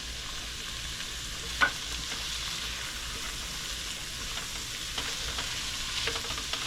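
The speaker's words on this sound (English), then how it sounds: "Now I'm going to add my onions in there." Onions hit the pan with canned corned beef and settle into a soft, even frying sizzle, with one sharp utensil tap near the start and light stirring clicks toward the end.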